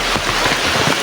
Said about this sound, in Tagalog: makikita nyo talagang sobrang lakas ng ulan ngayon